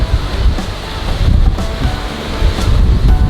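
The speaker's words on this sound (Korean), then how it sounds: "파도가 좀 심하다" Rough ocean surf pounding a beach on Jeju Island, loud rolling waves crashing in heavy surges with strong wind buffeting the microphone, no talking.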